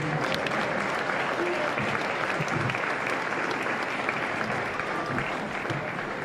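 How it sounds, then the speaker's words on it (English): A crowd in a school gym gives sustained applause for senior basketball players at a doubleheader, a continuous broad clatter of many hands with a faint murmur underneath. "Another big round of applause for our seniors."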